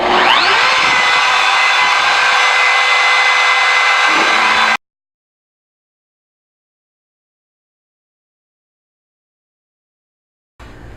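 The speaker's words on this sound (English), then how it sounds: "We're also going to be vacuuming up all the excess sawdust with the shop vac" Shop vac roaring while a CNC bit cuts wood, a loud steady close whoosh with a faint rising whine, stopping abruptly into silence before a brief return at the end.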